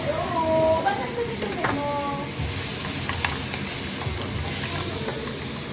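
Onion sizzles in melted butter in a pan, a close, continuous frying hiss with occasional stirring scrapes throughout.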